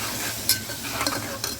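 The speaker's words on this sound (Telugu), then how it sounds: "ఇప్పుడు దీంట్లోకి మనం రుచికి సరిపడా ఉప్పు, కారం, పసుపు వేసేద్దాము. వేసి ఒకసారి బాగా కలుపుకుందామండి." Salt, chili powder and turmeric being stirred into softened tomatoes in a pan, with a gentle continuous sizzle and a few spoon scrapes against the metal, close up with no talking.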